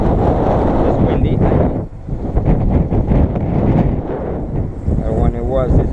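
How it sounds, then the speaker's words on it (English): Steady outdoor wind buffets the microphone throughout, a loud broadband rush with brief dips, at a 2004 Dodge pickup windshield replacement job; occasional faint voices sit under the gusts. "It's windy."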